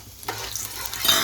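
Chopped garlic hits melted butter in a pan with a sudden loud sizzle that swells and holds as a bright, steady hiss, preparing a pasta base.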